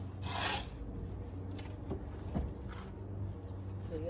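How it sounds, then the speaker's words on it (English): Shovel scraping across a concrete pad while dirt is dug out beside IBC totes for a wicking bed, giving a rough, rasping scrape with a louder burst near the start and a few sharper scuffs after, close and steady. "So you'll hear me scraping the concrete. As I'm digging the dirt out."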